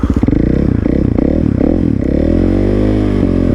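A BMW M1000RR motorcycle revving hard as its rear wheel spins on snow: a loud, sustained engine roar that rises and falls, with slipping scrape and clatter close by.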